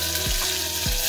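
Onion frying in hot oil with garlic, cumin and asafoetida, a loud, steady close-up sizzle with a couple of brief stirring scrapes.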